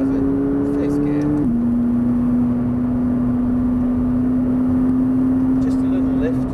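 McLaren 570S sports car engine pulling hard on the Thruxton race circuit, a loud steady drone heard from inside the cabin that holds one sustained tone after a quick gear change early on.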